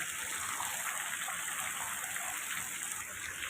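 Steady rainfall makes a continuous hissing wash of fairly even loudness, with no voices.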